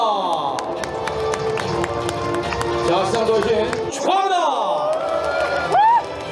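A crowd at a Daegu marathon awards ceremony claps and cheers around an announcer speaking over a loudspeaker, with scattered whoops rising near the end.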